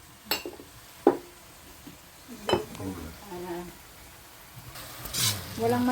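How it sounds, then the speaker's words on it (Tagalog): Onion, garlic and tomato sautéing in a pan for Filipino squid adobo, with a soft sizzle under scattered sharp clinks and scrapes of a utensil stirring against the pot. "at nagisa na natin ang ating sibuyas, bawang, kamatis"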